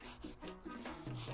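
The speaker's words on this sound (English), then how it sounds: "You just want to wet the fish, and you just want to start scrubbing them." Rough, sandpaper-like swordfish skin being scrubbed wet, giving a close, continuous rasping rub with short strokes one after another.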